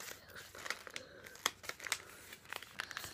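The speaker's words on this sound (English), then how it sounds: "We're just folding it like that." Paper is folded by hand to make a chatterbox, giving close, quiet crinkles and soft creasing rustles in a few quick bursts.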